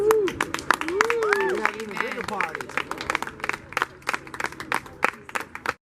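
Guests at a 90th birthday party roast clap in a scattered, uneven burst under voices and chatter, the claps thinning out and trailing off toward the end.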